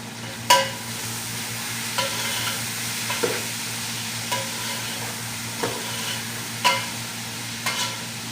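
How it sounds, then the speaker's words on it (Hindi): Meat and onions frying in a karahi for karahi gosht, stirred with a utensil that scrapes and clacks against the pan at irregular intervals over a steady close sizzle. "प्याज के साथ डाल दिया है अभी थोड़ा देर इसको मिक्स कर लेते हैं।"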